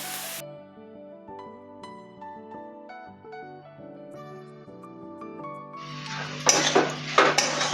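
Lentil dumplings (bori) clatter into a pan of cooking banana stem, a sudden burst of metallic rattling and sizzle near the end over steady background music.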